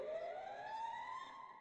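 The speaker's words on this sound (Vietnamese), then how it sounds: "Còi báo động đang hú liên sạch" Alarm siren in the video game Free Fire, a steady rising wail with strong harmonics, loud and continuous on its own throughout.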